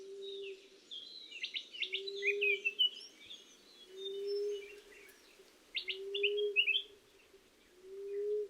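Small Indian white-eyes chirp and twitter in quick high bursts while bathing in the Western Ghats, while a dove coos low and steady in a slow repeating rhythm underneath.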